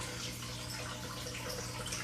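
Water trickling steadily down a small waterfall in a Chinese water dragon's tank, a continuous close splashing and bubbling with no voices.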